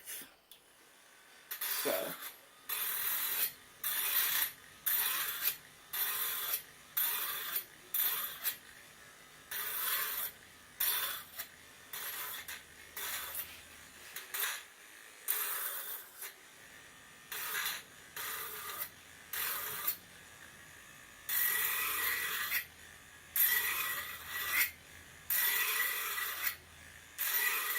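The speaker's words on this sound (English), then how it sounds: "sharpen my blade because it's feeling a little on the dull side" A dull kitchen knife blade is sharpened in strokes, a rhythmic rasping scrape repeated many times in steady bursts, close and fairly quiet, with one brief spoken word.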